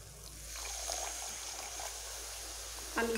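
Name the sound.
water poured into cooking spice mixture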